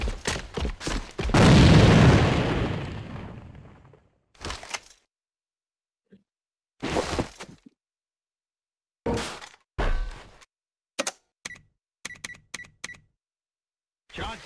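A loud grenade blast booms up close in the shooter game A.V.A, followed by scattered gunfire bursts, short thuds and sharp clicks from the match with gaps of silence between them.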